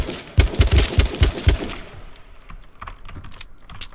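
Rapid bursts of AK rifle fire in a video game, a fast cluster of loud close shots in the first two seconds, then quieter scattered clicks and distant shots.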